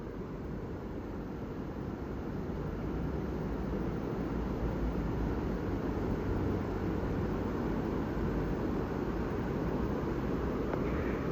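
Water pours through the opened spillway of Mangla Dam in Mirpur, Azad Kashmir, rushing past bridge pillars as a steady, dense roar that holds unbroken for the whole stretch with no voices.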